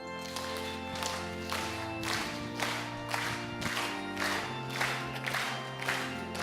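A church congregation claps in steady rhythm while singing a birthday song to Jesus at a Christmas service, regular beat-by-beat clapping under the sung melody and accompaniment, moderately distant.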